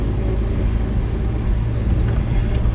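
A 1970 Jaguar XJ6 with the 4.2 engine runs on choke while cold, a loud, steady low rumble and drone filling the cabin without a break.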